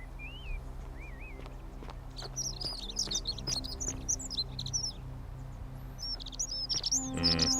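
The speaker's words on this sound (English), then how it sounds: "Those are loud friggin' birds." Loud, close birdsong in The Forgotten City game: many bright chirps and whistled trills scattered throughout, layered over a low ambient hum, with a brief harsher burst near the end.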